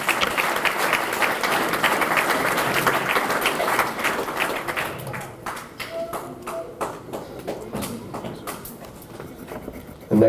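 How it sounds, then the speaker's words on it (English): A crowd at a memorial scholarship banquet claps steadily for about five seconds before the applause breaks into scattered individual claps and faint room noise, ending on a loud close knock. "Give Jalen a round of applause."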